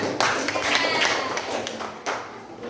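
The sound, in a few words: classroom clapping hands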